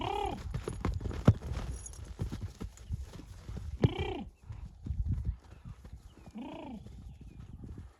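Draft horses walking with steady hoof clip-clop, broken by several loud, close neighs and whinnies over a farmyard background.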